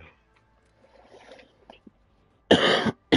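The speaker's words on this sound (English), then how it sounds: "Oh my God, I'm sorry for coughing so much." A single person coughs, first with a hard, harsh burst after faint background rustling and then with a second cough cut off at the very end, both close and loud.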